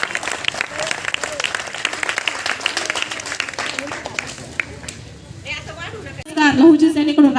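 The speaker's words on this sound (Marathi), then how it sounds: "अशा या ओवीचं तिच्या पालकांचं जोरदार टाळ्या बाजून आपण हार्दिक स्वागत करतो" A crowd applauds to welcome a young girl performer, a child balladeer, at a public felicitation event in Shrirampur. Dense, sustained clapping lasts about six seconds, then a voice begins speaking over the fading claps.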